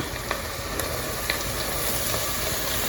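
Ridge gourd pieces sizzle steadily in a hot pan with onions and green chilies, a loud, continuous frying hiss with a few faint clicks and no talking.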